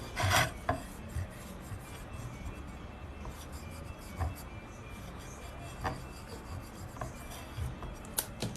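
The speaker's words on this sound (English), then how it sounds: "So I just lightly go over with an eraser." Pencil eraser rubbed lightly across paper over guideline marks: quiet, close, short scratchy strokes in an irregular rhythm, with a few sharper rubbing bursts and no talking.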